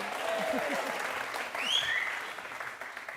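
Studio audience applause on an Indian TV talk show, a dense burst of clapping that fills the room, with a voice speaking over it.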